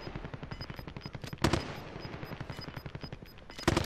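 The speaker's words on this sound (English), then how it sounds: "He's shooting you through the floor" Rapid automatic gunfire in Call of Duty Warzone, shot through a floor, rattles in dense bursts with a couple of louder, sharper blasts, fairly close and continuous.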